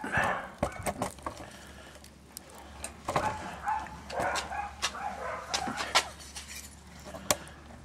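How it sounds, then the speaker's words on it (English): A second dog barks outdoors in a rapid, irregular series of clicky yaps, mixed with other background noise and some faint voices, close enough to sound clear and lively. "Well, there's another dog out."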